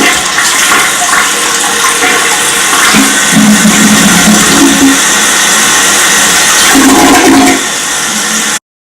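An old household toilet flushes loudly and close, a steady rush of swirling water running for about eight seconds with gurgling surges midway and near the end before the flow tapers off.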